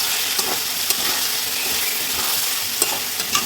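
Potatoes and soybeans fry with spices in a pan as a loud, even sizzle with a few light scrapes of stirring, close up and free of voices.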